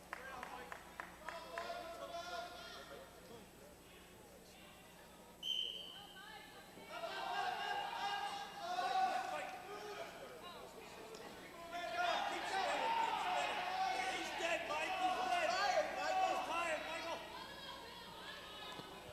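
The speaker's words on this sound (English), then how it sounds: "North Penn crowd cheering for Yeager." A North Penn High School crowd cheers for a wrestler named Yeager during a 1998 high school match against Bensalem, rising and falling waves of cheering and clapping in a gym, with a commentator talking over them.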